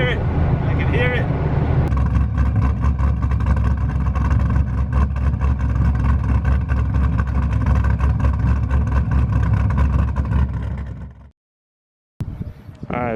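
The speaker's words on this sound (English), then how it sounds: "Ooh, that blow-off valve, I can hear it." A restored Nissan GTR engine roars loud and steady for about eleven seconds, then cuts to silence before resuming; a voice talks briefly at the start and end, and no distinct blow-off valve hiss stands out.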